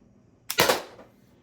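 A single sharp crack from an Umarex HDP50 air pistol, heard up close, with a short decaying tail and no talking.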